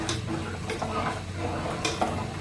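Semolina (suji) cooking with milk in a pot for a baby, with scraping and stirring taps of a spoon against the pan over a low, continuous cooking hiss.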